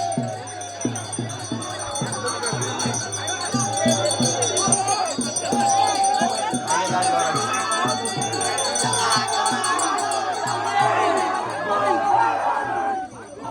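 A large crowd mills around at a traditional village chariot festival in Velas, Konkan, with dense chatter and shouting, a rhythmic drumbeat pulsing underneath, and a nearby voice talking over it.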